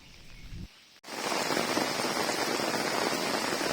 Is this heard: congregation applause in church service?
no